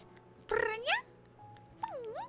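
A human voice imitates a cat, giving two drawn-out, rising-and-falling meows close to the mic, separated by a short pause with faint background hum.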